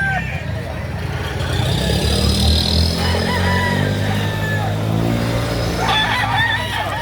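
Roosters crow at a gamecock market in Lipa, Batangas, several calls rising over a busy background. People talk nearby and vehicle noise rumbles underneath.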